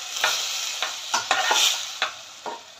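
Chicken for Patiala chicken stir-fried in a watery pan, with a steady sizzle broken by about seven quick spatula scrapes at an uneven rhythm, close and clear.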